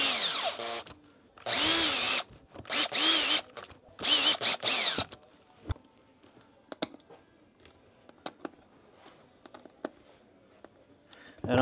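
A power drill on slow speed with a low clutch setting drives new screws into a ski boot sole: several short, loud whirring bursts close by, followed by quieter clicks and handling noises.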